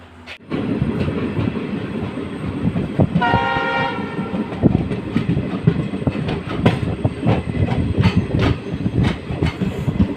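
A train arriving at Ammasandra railway station rumbles close by with rhythmic clacking of wheels, and a horn sounds briefly partway through over the steady roar.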